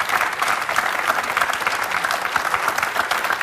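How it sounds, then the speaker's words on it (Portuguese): A studio audience at a Portuguese television interview claps in sustained applause, a dense, even patter of many hands heard close throughout. "Salve de palmas, Pedro."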